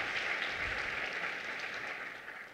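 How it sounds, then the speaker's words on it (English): An audience at an author interview event claps for the host, a short steady wash of applause at moderate volume that fades slightly toward the end. "let's give Jane a round of applause there"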